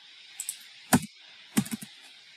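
Keys on a computer keyboard are struck in a few sparse clicks, then two clusters of quick, crisp taps, close and clear in an otherwise quiet room with no talk.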